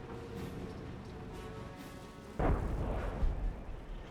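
An artillery barrage lands in the World War II strategy game Company of Heroes, with a dull boom and rumbling impacts erupting midway after a quieter stretch of battle ambience.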